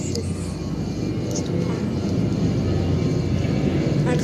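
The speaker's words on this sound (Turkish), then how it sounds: "Arkadaşlar bu arada uçak geçtiği için arada sırada çok ses gelebilir." An airplane passes overhead, making a steady, broad engine roar that stays loud and grows slightly through the whole stretch.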